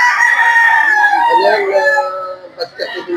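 A young stag gamecock crows loudly and close at a poultry market in Lipa, Batangas, one long drawn-out call that falls in pitch, followed by a few short clucks.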